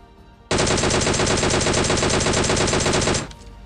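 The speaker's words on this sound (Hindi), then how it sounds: "बग्गी जाती है भाई इस तरफ और उस पर मैं फायर कनेक्ट करने की कोशिश करता हूँ" A long, loud burst of rapid automatic gunfire in PUBG Mobile, aimed at a passing buggy, with evenly spaced shots for about three seconds before stopping abruptly.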